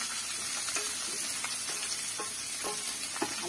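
Dried shrimp (jawla) sizzling in a pan, with a steady bright frying hiss and a few soft clicks of a spoon stirring, no voices.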